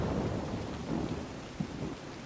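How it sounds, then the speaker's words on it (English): Rain pours steadily with low thunder rumbling throughout in the survival video game Soulmask, a dense, loud wash of rainfall under rolling thunder with a brief sharper crack near the end. "here comes the rain."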